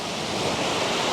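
Surf washing onto a beach on Taliabu island, a steady, loud, broadband roar of breaking waves with wind, continuous and close with no voices.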